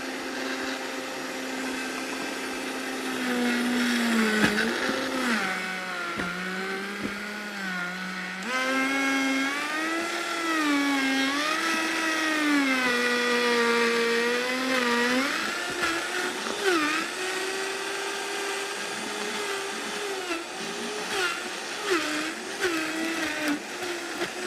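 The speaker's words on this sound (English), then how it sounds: "I'm going to flip on the Vitamix on low first. And then I'm going to use my plunger to plunge this down." A Vitamix blender runs on low for about twenty-five seconds, its steady motor whine shifting in pitch as a plunger pushes the contents down, close and loud with no talk.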